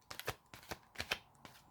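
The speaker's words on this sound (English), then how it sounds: "I'll shuffle until it bounces again" Tarot cards being shuffled by hand, a few quick papery riffling bursts in sequence, fairly quiet and close with no talking.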